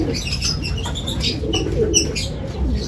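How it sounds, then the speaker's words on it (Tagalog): Pigeons coo and flutter around a loft as racing birds arrive at a derby in Vigan, Ilocos Sur, soft chirps and wingbeats over a busy outdoor background with no clear talk. "May dumating din na kalapati dun."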